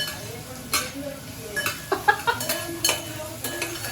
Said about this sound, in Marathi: आता कांदा आपला मस्त भाजण्याचं काम झालं. हा थोडासा ब्राउनिश होईपर्यंत करायचा